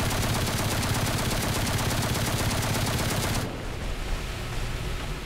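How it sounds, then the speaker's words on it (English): Naval guns on a Royal Navy Tribal-class destroyer fire in War Thunder as a dense, rapid stream of loud shots that cuts off abruptly after about three and a half seconds, leaving quieter ambient game noise. "Fire the gun!"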